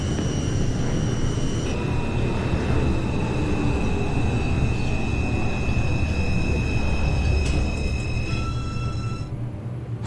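A New York City Subway R142 train runs in the OpenBVE simulator game, with a loud continuous rumble of wheels and motors and steady whining tones that shift in pitch partway through, heard alone without talk.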